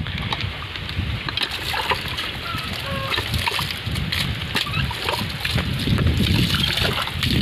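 Water rises and splashes steadily from an irrigation well pump at a rice field, a continuous broad wash of gushing and sloshing throughout, fairly loud and close.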